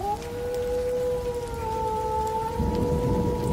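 Rain patters softly beneath a long, sustained howling tone, with a low rumble building toward the end.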